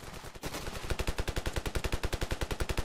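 Automatic gunfire in Ravenfield, a rapid, loud, evenly spaced burst of shots that starts after a brief pause and keeps rattling steadily to the end, with no voices.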